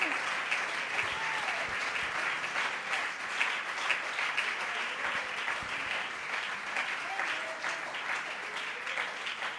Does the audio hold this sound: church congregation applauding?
yes